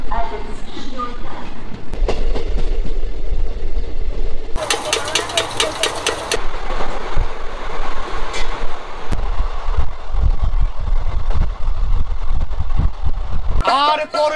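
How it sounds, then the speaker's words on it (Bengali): A passenger train pulls out of Bandel station with a loud rumbling engine, screeching wheels and clattering carriages, a brief bright squeal and rising clickety-clack as it gathers speed. "আমাদের ট্রেন ব্যান্ডেল স্টেশন থেকে ছেড়ে দিল।"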